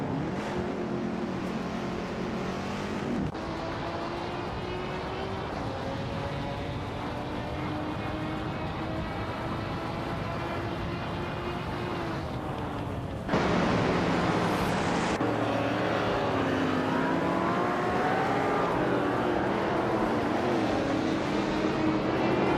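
Race cars in a video game roar past and accelerate, engine tones climbing and shifting through gear changes, with a sudden louder burst of engine noise partway through as the pack jostles for position.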